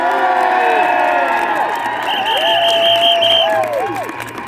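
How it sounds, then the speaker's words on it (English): A large outdoor crowd at a rally in Trafalgar Square cheers and whoops with applause, loud and sustained, while wavering tones run through the roar. "Give her a big round of applause."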